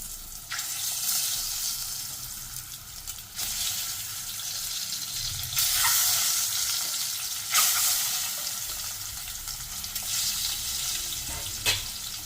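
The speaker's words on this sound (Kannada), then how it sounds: "ಇದನ್ನು ಸ್ವಲ್ಪ ಹೊತ್ತು ಫ್ರೈ ಮಾಡಿ." Boiled egg halves and capsicum fry in a pan with a steady, loud broadband sizzle, broken by several stirring surges and a brief scrape near the end, with no talking.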